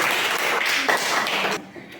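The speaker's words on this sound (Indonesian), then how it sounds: "Tepuk tangan dulu buat kelompoknya Nadine" Elementary school class clapping for a student group, a short burst of many hands applauding together that stops abruptly, followed by a quiet room.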